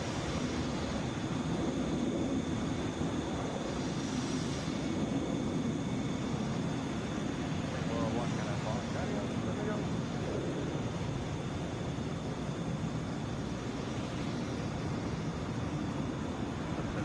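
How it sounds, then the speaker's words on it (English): A Delta Boeing 737 at Atlanta airport, heard as a steady, fairly distant jet roar that holds evenly for the whole stretch, with no voices over it. "Boeing 737."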